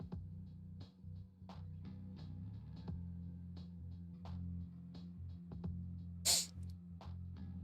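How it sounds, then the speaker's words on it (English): A person sneezes once in a sharp, brief burst during a Diablo 4 game stream, standing out clearly above a low steady background hum. "Man, I just cannot stop sneezing."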